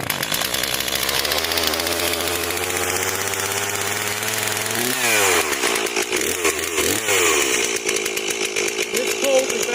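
A Stihl 260 chainsaw runs in cold snow. Its engine idles with a steady buzz, then is revved up in a few sharp bursts, loud and close.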